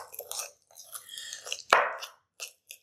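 Roasted garlic mashed into softened butter for compound butter, short irregular squishing and scraping strokes with one louder thud-like smack midway, close up and quiet between bursts.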